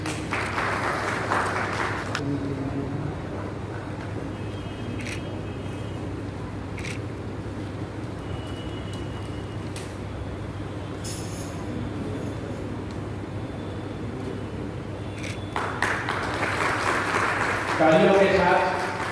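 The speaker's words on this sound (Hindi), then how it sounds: "तालियों के साथ" An audience at the closing session of the Tulsidas Jayanti inauguration ceremony at Manas Bhavan breaks into applause, with a burst of clapping at the start, a quieter stretch of murmuring in between, then clapping swelling again near the end.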